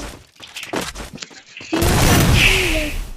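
Gunfire rattles in the video game Free Fire, with bursts of shots followed by a sustained loud barrage. A brief whooshing effect rises over the noise near the end.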